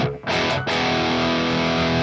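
An electric guitar plays through an amp with a thick, distorted tone, a loud sustained chord ringing out after a brief break, dense and close with no talking.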